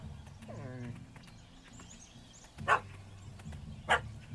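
A dog barks in The Witcher 3 game, two loud close barks near the end after a quieter stretch with faint game ambience and a brief rising creature cry.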